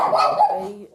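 A dog gives a single short, close bark that tails off into a brief whine, loud and alone for about a second.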